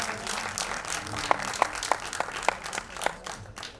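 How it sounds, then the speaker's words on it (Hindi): Applause from the audience at the Mere Desh Ki Dharti trailer launch event rises in a moderate, somewhat distant wash, with a few sharper individual claps standing out for several seconds. "दोस्तों ताली तो बजाओ यार"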